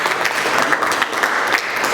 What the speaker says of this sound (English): I think they deserve a lot of applause.